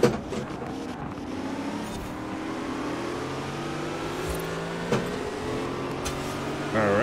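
A racing car in Forza Horizon 4 drives past another car, its engine a steady moderate drone with a brief louder whoosh as it passes, under quiet commentary.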